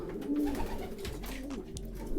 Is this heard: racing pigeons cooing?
yes